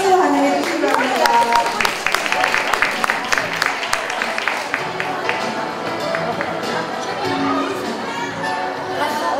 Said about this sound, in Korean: 큰 박수 환영해 주시기 바랍니다.